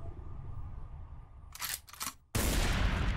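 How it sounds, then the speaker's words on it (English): Gunfire in the PS2 video game 50 Cent: Bulletproof: two short, sharp bursts of shots, then a sudden loud, sustained roar of rapid fire that runs to the end, with no talking. "And end up with bullets flying?"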